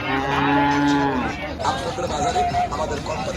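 A local bullock at a Qurbani cattle market in Rajshahi moos loudly and close for about a second and a half, followed by a busy background of crowd chatter and another fainter low call.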